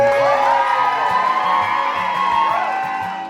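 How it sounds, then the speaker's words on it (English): Wedding guests at a Destin, Florida destination wedding cheer and whoop together in a loud, continuous burst of crowd noise that stays steady and fades only slightly near the end. "Can we just get a round of applause?"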